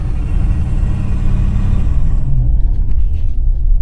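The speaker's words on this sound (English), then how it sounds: "Some sort of hissing." Inside a diesel pickup truck with a suspected boost leak or failed up-pipe, a loud steady rumble of engine and road noise carries a broad hiss that fades partway through, leaving the low drone alone.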